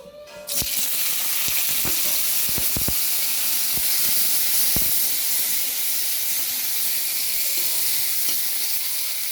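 Capsicum hits hot oil in a pan with a burst of loud sizzling that settles into a steady, dense fry, punctuated by several sharp clicks of a spatula against the pan, close and with no voices.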